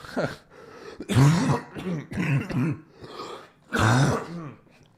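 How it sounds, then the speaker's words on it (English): A person coughs and clears their throat several times in rough, throaty bursts, close and fairly loud. "I still have this cough."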